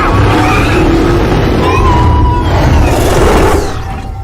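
The Batman Tumbler from a film throttles up for a rampless jump, a loud, sustained roaring engine with squealing tire-like tones throughout, easing off slightly at the end.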